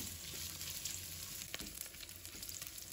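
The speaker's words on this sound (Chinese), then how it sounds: "油热之后把五花肉放入锅中，开大火快速的翻炒，炒出多余的油脂" Pork belly stir-fries in hot oil in a wok over high heat, a faint continuous sizzle with small crackles and occasional stirring scrapes.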